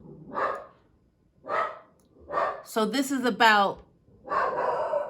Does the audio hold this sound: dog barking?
yes